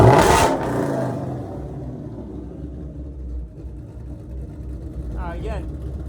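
Exhaust of a cammed 2005 Mustang GT 3V engine, a sharp rev at the start that drops into a steady deep idle rumble, close and loud throughout.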